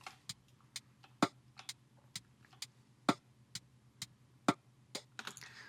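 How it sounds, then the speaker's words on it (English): The built-in drum machine of an old organ plays a quiet, steady pattern of sharp ticking clicks over a low hum, with some louder accented hits. No one speaks. "I recorded to the drum machine of the actual organ"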